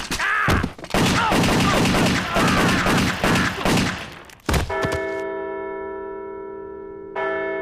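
A rapid volley of loud gunshots sounds in the video game Fugget About It, several seconds of dense shooting that ends abruptly and gives way to a ringing, bell-like tone.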